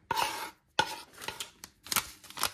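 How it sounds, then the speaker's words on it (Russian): Spoon working pretzel pie dough with flour, salt and sugar in a bowl, a series of irregular scraping and knocking strokes against the bowl, close and clear with short pauses between. "Замешиваем тесто."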